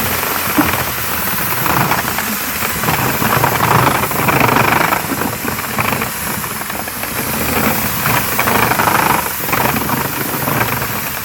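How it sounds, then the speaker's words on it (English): A power drill whirs continuously, spinning a chain stirrer through wheat berries with a gritty, rattling churn as they tumble inside a container, loud and close, with no talking. "then we're going to turn the drill on and we're going to whack the heck out of it"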